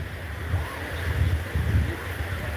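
Surf on the ocean side of a beach with bigger waves and stronger undertow, heard as low rolling washes that swell and fade under steady wind buffeting the microphone.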